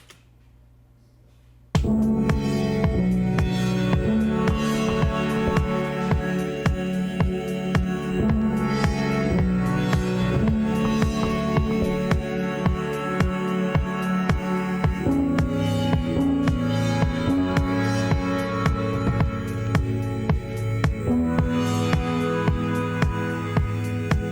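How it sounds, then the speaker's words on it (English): A steady four-on-the-floor drum beat with an evenly spaced kick on every beat, driving along under layered music after a brief quiet start. "4 on the floor beat. It sounds like this."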